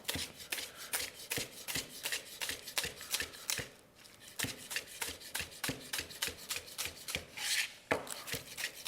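A knife bias-cutting spring onions on a cutting board, rapid regular chops in a steady rhythm with a brief pause midway, close and crisp with no talking.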